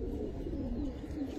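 A Giribaz pigeon coos in a soft, continuous low murmur, close and alone.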